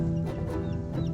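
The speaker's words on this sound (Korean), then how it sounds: "그런데 옆에 있던 암탉 한 마리가 써니에게 싸움을 건다." A hen from a yard flock of rescued ex-battery hens clucks in short, close bursts while squaring up to another hen near chicks, with steady low background noise and no talking.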